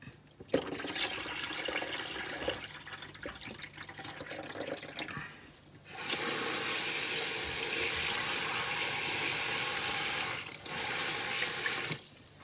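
Tap water runs steadily into a sink while pickled wild garlic (ramsløg) is rinsed, a continuous splashing flow that briefly drops off then resumes louder, with occasional drips, close and with no talk.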